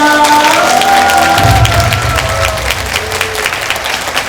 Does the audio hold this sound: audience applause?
yes